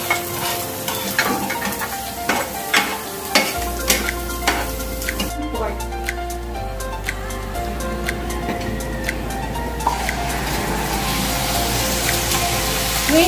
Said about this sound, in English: Onion and garlic over the medium slow heat until translucent.